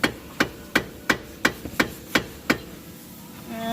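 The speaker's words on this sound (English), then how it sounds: "And need a bigger hammer." Eight sharp, evenly spaced metal hammer blows ring out on a car subframe during a Subaru Impreza GC suspension install in a garage. They fade into a faint tonal ring at the end, with no talk.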